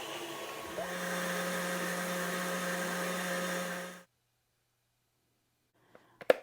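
An electric mixer whirs steadily for about four seconds while beating egg whites with vinegar toward stiff peaks. It cuts off abruptly, followed by silence and a couple of sharp clicks.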